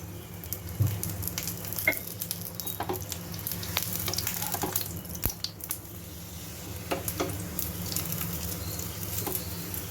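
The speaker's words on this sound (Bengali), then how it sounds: "এবার এর মধ্যে সাদা তেল দিয়ে দেবো একটু।" Paratha crisping in white oil on a hot pan gives a steady crackling patter with scattered sharp pops throughout, moderately loud and with no voices.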